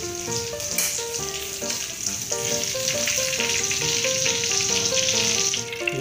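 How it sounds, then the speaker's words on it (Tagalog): Kapeng barako roasting over a low fire gives a steady close sizzle and hiss, heard under a melodic background tune with no talk. "kunting apoy lang po ang pagluluto natin para hindi po talaga siyang nasunog"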